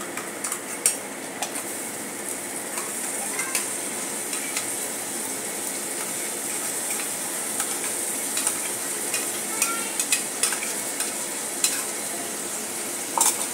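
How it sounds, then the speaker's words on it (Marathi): Spice paste sizzles steadily in a pan with onions while a utensil scrapes and stirs, giving soft intermittent clicks over the frying hiss, close and fairly quiet with no talking. "आता यामध्ये ही पेस्ट घालून घेऊया।"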